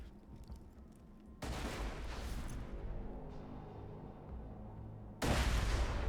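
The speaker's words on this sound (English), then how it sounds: "I'm going to throw some grenades down and try and kill myself here" Grenade explosions in the video game Borderlands 2, heavy booming blasts that cut in abruptly and rumble on, with a second loud detonation near the end.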